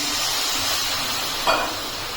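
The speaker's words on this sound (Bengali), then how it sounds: "মশলার ভিতরে একটু জল দিয়ে দিচ্ছি" Spice paste (masala) sizzles steadily in a pan while water is added, with a brief louder hissing burst about two thirds of the way through; no one speaks.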